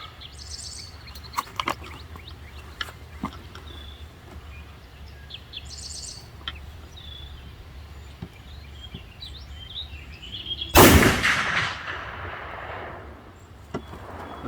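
A single loud, sharp rifle shot from a Savage Scout chambered in 450 Bushmaster cracks out late, its blast decaying over about a second, while birds chirp faintly outdoors before and after.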